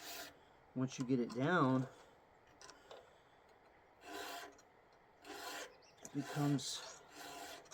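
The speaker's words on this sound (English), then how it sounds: "sharpening without a guide" Hand file rasping across chainsaw chain teeth, sharpened freehand without a guide: several separate gritty strokes, close and fairly loud, with someone talking briefly between them.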